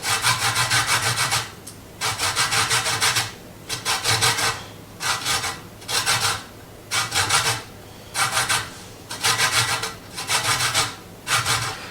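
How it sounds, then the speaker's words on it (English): Rhythmic rasping strokes of a lime rubbed against a grater for zest, about a dozen even scrapes with short pauses between, close and moderately loud with no talking. "it's just grating the"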